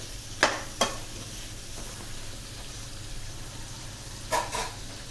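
Rajma simmering in a pan until fully cooked: a steady low bubbling and soft sizzle throughout, broken by a couple of sharp clinks of a spoon against the pan near the start and again near the end.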